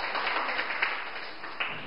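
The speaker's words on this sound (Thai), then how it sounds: "ถูกต้องปรบมือให้เพื่อนด้วย" Students applauding a classmate in a Thai school maths classroom, a steady wash of many hands clapping together for about two seconds, close and fairly loud with no talk over it.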